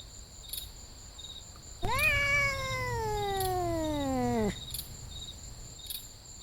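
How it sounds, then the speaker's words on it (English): Feral cat lets out one long, close, drawn-out tonal growl-yowl that slowly falls in pitch over about three seconds, with steady night crickets chirping in the background. "the original feral cat watches and growls right next to the camera"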